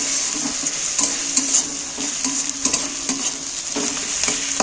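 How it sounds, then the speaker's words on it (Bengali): Garlic paste is stirred into onions frying in a pan for a Bengali-style chicken curry, with a steady hiss of sizzling oil and repeated scraping strokes of a spoon against the pan, close by. "1/2 চামচের মতো রসুন বাটা দিচ্ছি, দিয়ে পেঁয়াজটার সাথে একটু মিক্স করে নিচ্ছি।"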